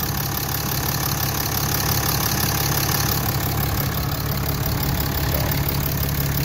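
A 2017 RAM 3500 dually with a 6.7 Cummins turbo diesel idles with the hood open, giving a steady, close, clattering rumble that holds constant throughout without voices.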